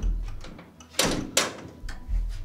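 Elevator door sliding open, a couple of sharp clunks and a brief rush of mechanism noise over low hum, close by, with no talk.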